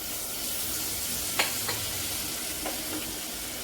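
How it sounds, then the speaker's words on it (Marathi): A spoon stirs spiced green mung bean curry frying in a pan, the steady sizzle carrying on throughout with a few light scraping clinks of the spoon against the pan. "आता आपण याला चमच्याने मिक्स करून घ्यायचं आहे अशा पद्धतीने"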